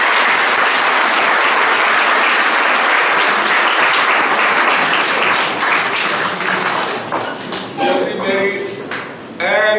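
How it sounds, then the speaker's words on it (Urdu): Loud, dense hand clapping fills a hall as a guest is welcomed at a college darbar gathering, sustained for about eight seconds before thinning out with a few voices near the end. "اور ان کے ویلکم کے لیے تالیاں"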